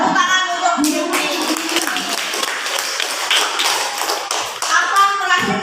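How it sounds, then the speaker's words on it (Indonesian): Sixth-grade children in a classroom clap for a classmate, a brisk burst of close, sharp hand claps with voices speaking over the start and end. "Tepuk tangan untuk Hilmi."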